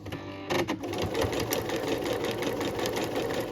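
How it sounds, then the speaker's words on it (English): A sewing machine stitches a 3/8 inch seam on a cotton tote bag, a steady, close whir of rapid needle strokes that starts up and runs continuously. "I'm going to sew with a 3/8 inch seam allowance"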